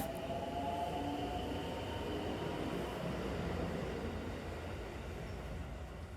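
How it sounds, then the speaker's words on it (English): A train rolls into a sleepy station near Kyoto's Hozu Gorge with a steady low rumble and a brief wheel squeal at the start. It sounds close and continuous, with no voices. "finally the train pulled in and Grandpa Bear jumped off"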